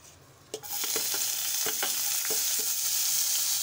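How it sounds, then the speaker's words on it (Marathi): Hot oil sizzles steadily in a wok after a sharp clink at the start as chopped onion goes in, with scattered small scrapes and pops over a loud, continuous frying hiss and no talking. "आता मी कढईमध्ये 2 चमचे तेल घालत आहे"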